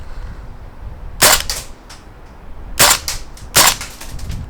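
Tokyo Marui AKM gas blowback airsoft rifle firing: three loud, crisp snapping shots with bursts of rapid clacks, spaced a second or so apart, close and alone.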